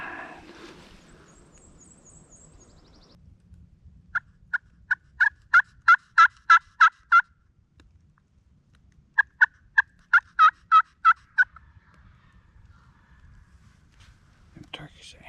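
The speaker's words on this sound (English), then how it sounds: "Them turkeys are answering this call right here to my right behind me, really." Wild turkeys in Mississippi spring woods gobble back in two loud rattling bursts in answer to a call, with soft whispering before and after.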